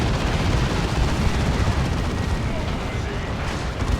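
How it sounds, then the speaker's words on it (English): Fire Dragons fire fusion guns at a Techmarine during a 3v3 Warhammer 40k: Dawn of War 2 battle, producing a loud, dense, continuous roar of blasts and explosions that fills the whole stretch without a break. "Fire Dragons are shooting the Techmarine here. Good damage to all targets with their fusion guns."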